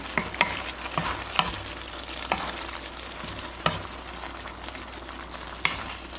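Spicy tofu is gently stirred through a seasoning sauce in a pan, with soft sizzling and a scattering of scraping utensil taps at close range.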